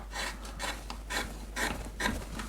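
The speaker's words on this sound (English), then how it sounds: "you can go straight to one like this, which is a bent gouge, and make this cut from under here" Wood carving with a bent gouge, cutting under the collar of a carved hanging shirt: a run of about five close, rasping strokes in quick succession, with no talking.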